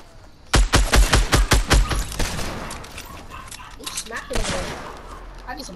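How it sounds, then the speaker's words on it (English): Fortnite Battle Royale gunfire, a rapid loud burst of about eight close shots, followed by quieter scattered game noise, a few softer shots and faint talking. "Somebody shooting at me. I don't know from where. Is it with a deagle?"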